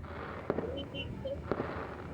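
New Year fireworks bursting outdoors, two sharp distant pops about a second apart over a steady background hiss.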